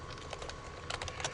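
Typing on a computer keyboard during a Python programming lesson, a quiet run of light key clicks in short bursts, faint and close with no talk.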